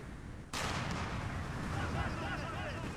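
Mortar fire in Empire Total War, a sudden heavy boom that rolls into a long, dense rumble of blasts and battle noise sustained for several seconds, loud and close.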